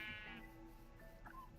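A sheep in Minecraft gives a single short, wavering bleat right at the start, faint against quiet game background noise.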